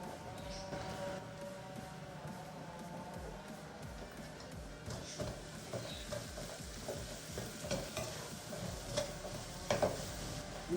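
Sliced shallots, about 100 grams, sautéing in a pan for a roasted-spice chicken curry, giving a steady close sizzle with scraping stir strokes and utensil clinks throughout, with no talking.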